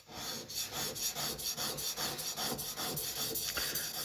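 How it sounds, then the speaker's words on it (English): Back of a steel chisel honed on a sharpening stone, a close, rhythmic rasping scrape with roughly a dozen even back-and-forth strokes at a steady pace, heard alone without talk. "just a couple of strokes on the back of the chisel"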